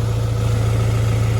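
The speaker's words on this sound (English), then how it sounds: "I just adjusted the idle." A Honda Integra engine idles at a steady, even low rumble, close and fairly loud, with no other sounds over it.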